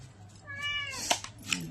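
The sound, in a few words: cat meowing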